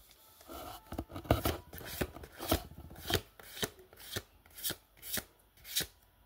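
Pokémon mystery booster packs being opened by hand, a run of sharp crinkly foil tears and rustles in an irregular rhythm, close up and fairly loud, with no speech.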